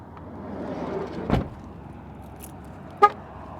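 Low rumble of nearby road traffic beside a parking lot, with a car passing by and a brief short honk near the end; no speech.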